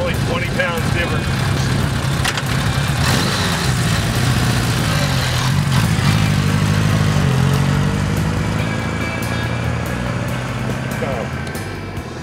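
A Honda Gold Wing motorcycle pulling a 5-foot Super Sport XL cargo trailer gives a steady, close mid-range engine hum that rises slightly and then eases off, with road and wind noise underneath.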